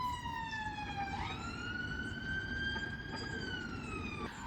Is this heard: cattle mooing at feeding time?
no